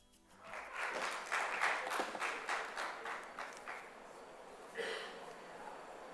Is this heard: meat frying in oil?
no